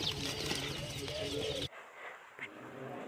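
A dense, steady chorus of about a hundred day-old chicks peeping shrilly, cutting off abruptly partway through, leaving a few faint chirps afterward.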